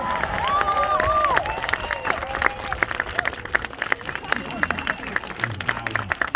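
Audience at a magic show breaking into clapping and cheering, loudest at the start and then thinning into scattered claps, with voices and crowd murmur mixed in.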